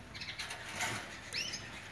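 Birds in an aviary flutter their wings and give a few thin chirps nearby, with a brief burst of flapping mid-way and a short high call toward the end, no talking.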